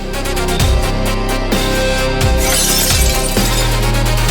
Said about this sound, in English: Pieces of glass are flying everywhere.